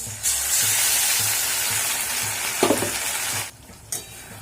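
Onions and a spice mix of salt, turmeric, cumin, coriander and chilli powder fry in a home kitchen pan with a steady, loud sizzle, stirred with a couple of scraping metal clinks near the end; no one speaks.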